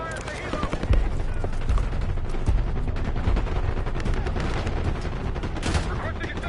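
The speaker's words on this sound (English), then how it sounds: "We're taking heavy fire from the helo." Heavy gunfire from a helicopter in the Black Ops 6 campaign, dense rapid bursts and booming impacts filling the whole stretch as a loud, continuous barrage.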